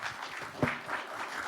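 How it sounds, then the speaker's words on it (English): Brief applause for a presenter at a business pitch event, a faint, steady spatter of clapping from the audience with a momentary voice-like blip partway through. "Round of applause for Dan"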